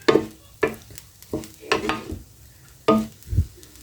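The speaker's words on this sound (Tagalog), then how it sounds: "Naman, itlog naman yung aking pinipiprito" An egg frying in a pan with a little salt, heard as a series of separate scraping and stirring bursts with a light sizzle, close and fairly loud, with no one talking.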